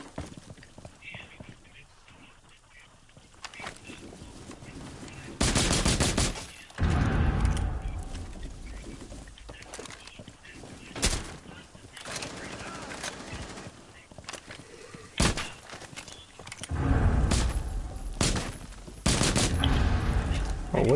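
Rapid bursts of gunfire crack out in Rainbow Six Siege, in several short, loud volleys separated by quieter gaps. Faint player chatter runs underneath.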